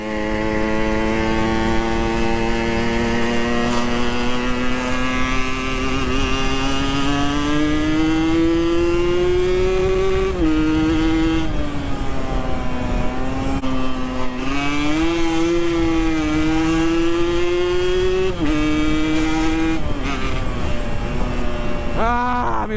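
A Yamaha RX King two-stroke motorcycle with a mis-set carburettor revs steadily, its buzzing engine note rising and dipping through repeated throttle blips, loud and close, with no talk.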